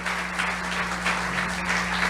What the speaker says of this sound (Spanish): Dele ese aplauso al Señor.